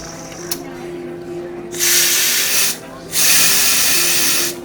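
An espresso machine's group head is flushed. Two loud bursts of hissing, rushing water and steam are heard up close, with a brief quiet gap between them.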